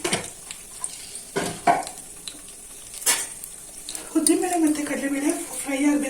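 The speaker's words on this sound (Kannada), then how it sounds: "ಇದಕ್ಕೆ ಈಗ ನಾನು ಕಡಲೆ ಬೇಳೆ ಹಸಿರು ಕರ್ಬೇವಿನ ಸೊಪ್ಪಿದ್ರೆ ಇನ್ನೂ ಚೆನ್ನಾಗಿರುತ್ತೆ ಇಲ್ಲಿ ಒಣಗಿರೋದನ್ನ ಹಾಕ್ತಾ ಇದ್ದೀನಿ" Chana dal and dried curry leaves hit hot oil in a pressure cooker for uppittu. Spoon clinks and scraping come first, then a steady sizzle builds, with a voice murmuring beneath it.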